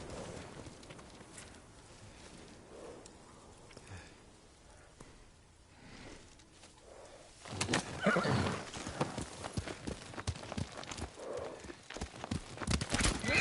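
Horse in a PS4 video game whinnying and clopping its hooves, quiet at first and then a louder burst of rapid hoofbeats and neighing over a busy game soundscape.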